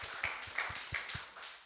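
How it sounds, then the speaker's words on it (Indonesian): A church congregation clapping rhythmically in worship, about six or seven steady, fairly close claps within under two seconds. "Beri tepuk tangan bagi Tuhan Yesus"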